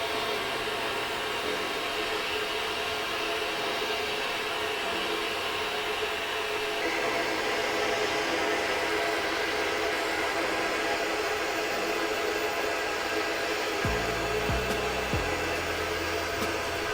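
Vapor blasting of YZ426F engine cases at home makes a steady, loud, hissing rush of spray and air that runs on without a break, with a brief low knocking near the end and a short spoken greeting over it.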